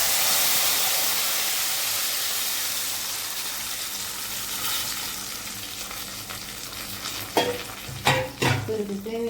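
Tamarind water poured into a hot frying pan sends up a loud hiss that fades to a softer sizzle, then scraping spoon stirs clatter near the end, no talking.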